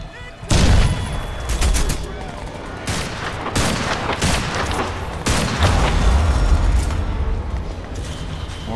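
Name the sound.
pistol gunfire in video game Crysis 2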